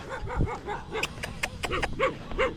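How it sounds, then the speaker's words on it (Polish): A sheepdog guarding cows barks and yips repeatedly at a nearby person outdoors in open pastureland, a rapid string of sharp, fairly close barks with whimpering tones between them. "Pies pasterski."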